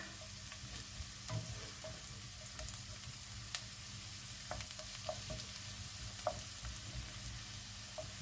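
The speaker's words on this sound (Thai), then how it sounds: "เจียวให้หอมก่อนนะคะ" Aromatics frying in oil in a wok for a stir-fry of wild mushrooms with oyster sauce, a steady low crackling sizzle with scattered sharp pops and occasional utensil clicks, close and fairly quiet.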